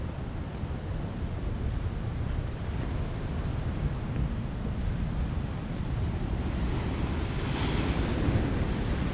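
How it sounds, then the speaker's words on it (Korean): Rough sea waves crash and roar against the rocky coast at Yehliu Geopark, Taiwan, a continuous loud wash of surf with heavy wind noise across the microphone and no voices. "파도가 무서워."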